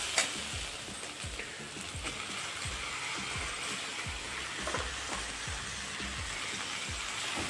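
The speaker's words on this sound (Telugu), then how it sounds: "ఇప్పుడు మనం ముందుగా కట్ చేసి పెట్టిన టమాటాలు వేసేద్దాం" Chopped tomatoes go into a sizzling drumstick curry: continuous frying hiss with repeated soft scraping stirs and light clinks of a spoon against the pan, close and steady, without talk.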